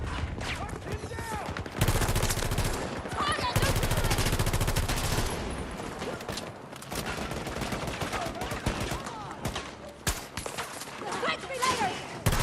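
Turret gunfire in a video game: dense, loud automatic bursts and rapid shot clusters packed across the whole stretch, nearly continuous with brief gaps, with some speech mixed underneath.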